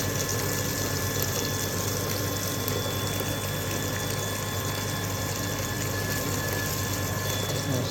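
A car-system flushing station pumps water through a heater radiator and cooling system, giving a steady, loud mechanical hum with rushing, foaming water that holds unbroken throughout.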